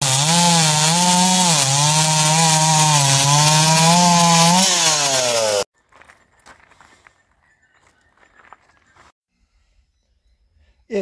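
Chainsaw fitted with a racing chain cutting through wood, a loud, close, high-revving buzz holding steady with slight pitch dips for about five seconds, then cutting off to near silence with faint shuffling and handling noises.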